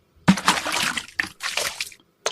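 Water splashes in a video game as plants are watered, heard as three short bright gushes, close and fairly loud, with brief silences between them and no voices.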